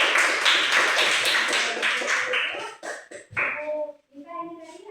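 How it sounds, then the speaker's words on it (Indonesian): Students in a classroom clap for a group, a burst of rhythmic, fairly close hand claps that fades after a few seconds, followed by children's voices talking. "Kasih tepuk tangan untuk kelompok 3."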